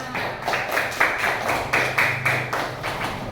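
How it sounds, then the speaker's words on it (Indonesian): A classroom of pupils claps together in an Islamic religious studies lesson, a fairly steady run of hand claps with a regular pulse lasting a few seconds, moderately loud and without talk over it. "Tepuk tangan untuk kita semua."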